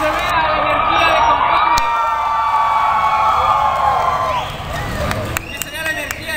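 A crowd at a comics convention in Mexico cheers, whoops and claps while an amplified announcer speaks over them, the noise dipping slightly near the end.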